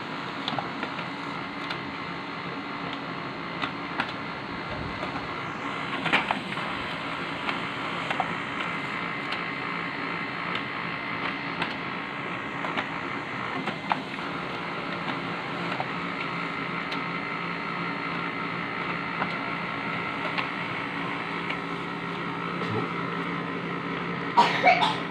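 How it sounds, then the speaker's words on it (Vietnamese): An HP LaserJet 1536dnf multifunction laser printer runs a double-sided print job, giving a steady mechanical whir with scattered clicks and paper-feed knocks that continue for the whole stretch, close by and fairly even in loudness. "Mình đã in hai mặt thử. Cái dòng này tốc độ tương đối nhanh các bạn ạ."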